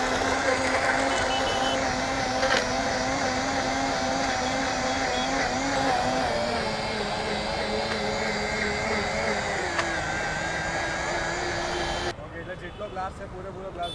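A blender at a Surat street-food stall whirs steadily as it crushes fruit and ice into Korean-style fruit juice. The loud motor whine shifts slightly in pitch, then cuts off near the end, leaving quieter background noise.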